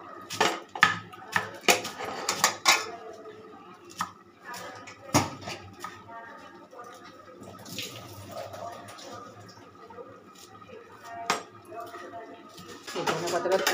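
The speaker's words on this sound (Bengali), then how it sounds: "দেখো কি সুন্দরভাবে কেটে নিচ্ছি ধনে পাতাগুলো" Fresh coriander leaves chopped with a knife on a board, giving a run of quick close taps clustered at the start with scattered single strikes after, plus faint water and dish clatter; a voice talks throughout.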